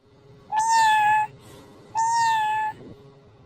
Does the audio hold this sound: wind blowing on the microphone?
no